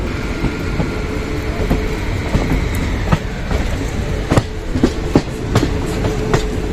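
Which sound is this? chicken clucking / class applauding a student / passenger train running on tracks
passenger train running on tracks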